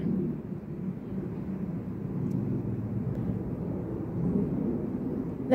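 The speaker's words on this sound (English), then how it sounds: "That's an airplane." A steady, low rumbling roar of a jet airplane passing overhead before a storm, continuous and moderately loud with no voices.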